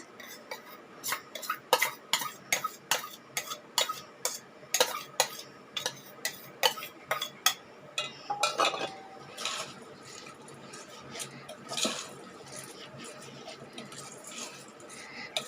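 Soaked, washed grains for kondakadalai (chickpea) dosa batter are stirred together in a bowl with a spoon, giving a long run of close, wet clinks and scrapes, with some splashing near the middle and quieter stirring toward the end.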